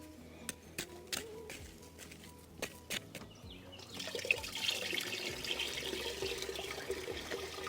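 Water starts running from a rain barrel watering station in a garden after a few scattered knocks and clicks, then pours in a steady, close, continuous stream until the end.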